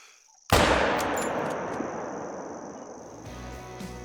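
A single Mosin Nagant bolt-action rifle shot fired at a deer in the hunting game Call of the Wild: one loud, sharp crack followed by a long ringing echo that slowly fades, with no talk.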